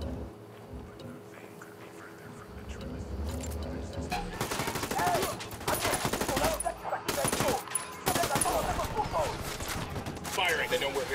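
Gunfire in the video game Ghost Recon Wildlands, with bursts of rapid automatic fire and sharp shots over a low ambient bed, growing denser and louder as the firefight intensifies.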